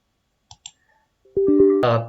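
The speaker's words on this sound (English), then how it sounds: "I'm double clicking it." Two quick, crisp clicks of a computer mouse double-clicking a Windows 10/11 executable file, close and alone, followed by a brief system chime.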